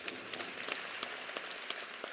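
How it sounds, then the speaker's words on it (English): Scattered audience applause at a university press event introducing a new head football coach; quiet, loose clapping with a few distinct sharp claps standing out, fairly distant. "Give him a round of applause."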